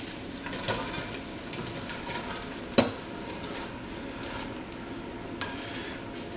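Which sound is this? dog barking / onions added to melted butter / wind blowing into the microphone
onions added to melted butter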